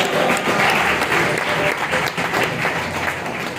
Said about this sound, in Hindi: ताली बजा के जोरदार प्रभु को धन्यवाद दीजिए